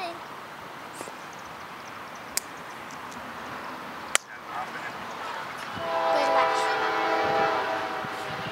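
A Norfolk Southern manifest freight train rolls through a grade crossing in Austell, Georgia, with a faint distant rumble that swells and a steady horn blast rising near the end, under light background noise and occasional voices.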